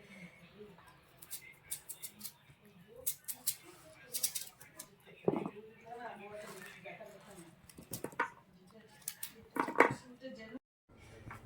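Onions, green chillies, coriander leaves, tomato, peas and capsicum are chopped for vegetable pulao, with irregular close knife taps and clicks on a board amid softer handling noises and brief quiet gaps.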